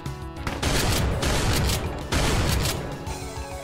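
Heavy gunfire from a shotgun in the Brutal Doom video game, a dense run of loud, overlapping blasts with continuous booming that barely lets up across the stretch.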